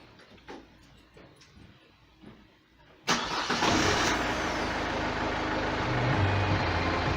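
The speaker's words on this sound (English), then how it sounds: "We'll start the car again." A car engine cranks and catches abruptly, then settles into a steady, loud running drone that fills the rest of the clip, preceded by a few faint clicks and knocks.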